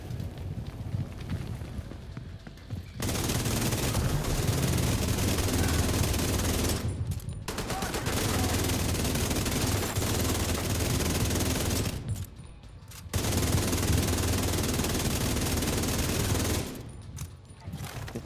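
Sustained automatic gunfire in the video game Division 2 at very close quarters: dense, loud bursts of shooting that fill most of the stretch, broken by three short pauses, with no talk over it.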